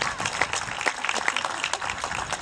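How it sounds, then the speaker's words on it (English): Scattered crowd clapping at an outdoor community gathering, individual claps distinct and uneven rather than a dense roar, moderately loud with some voices mixed in. "Can we make a round of applause for everyone that's here right now?"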